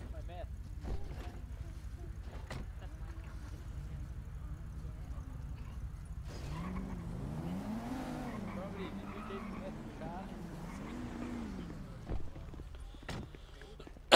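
A car engine in GTA revs and rises and falls in pitch as the vehicle is driven off to the roadside, fairly quiet, with brief knocks and clicks around it.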